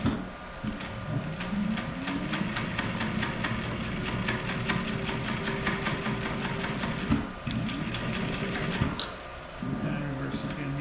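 A Techsew 1660 industrial sewing machine runs steadily as it stitches a French seam, giving a continuous mechanical hum with fast rhythmic needle ticks. It stops briefly twice before picking up again, and some speech is faintly present.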